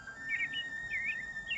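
A small bird sings a series of thin, high chirping phrases over a faint steady background hiss.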